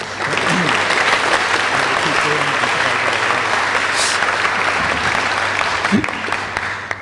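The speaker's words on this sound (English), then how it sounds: "Yeah, that's an applause." An audience at an employee celebration event breaks into loud, continuous applause for a longtime chemistry instructor, a dense unbroken wash of clapping close by with no one talking over it.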